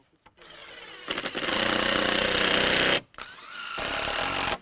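A power drill drives 1.5-inch connector screws into a deck beam. Two sustained high-revving bursts, the first about two seconds long and the second shorter, sit close and loud, with a brief stop between them.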